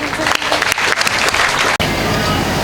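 An audience claps at a special debate held for a Murugan temple consecration, a loud burst of dense applause that briefly dips before carrying on, with a voice partly under it.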